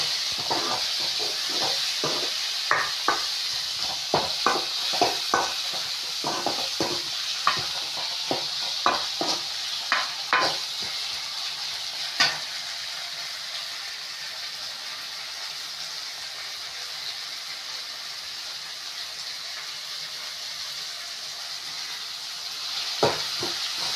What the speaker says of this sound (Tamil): ஸோ வெங்காயம் தக்காளி நல்லா வதங்குற வரைக்கும் ஒரு 2 மினிட்ஸ் வெயிட் பண்ணலாம்.